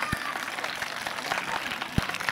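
Audience at a school Independence Day event in Karachi claps in a soft, diffuse wash, faint and distant with a couple of sharper thumps.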